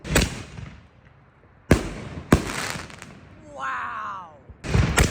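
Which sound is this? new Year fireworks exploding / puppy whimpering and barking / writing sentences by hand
new Year fireworks exploding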